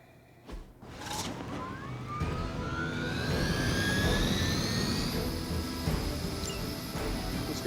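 An escaping helicopter in the video game Marvel's Midnight Suns rises into a loud, sustained whining engine roar with rising tonal sweeps, after a brief thump near the start.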